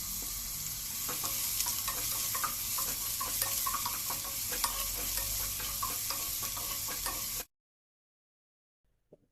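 Chopped onions frying in hot oil in a pot for a chicken curry, giving a steady loud sizzle with light stirring clicks for about seven seconds, then abrupt silence.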